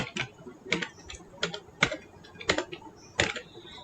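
Text being typed into an HTML tag on a computer keyboard: sparse, separate key clicks spaced roughly half a second apart, close and fairly quiet against a faint background.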